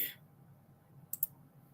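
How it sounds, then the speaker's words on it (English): Two quick computer mouse clicks close together, sharp and fairly faint, over a low background hum, with a brief vocal sound at the very start. "So I'm clicking on everybody's stuff."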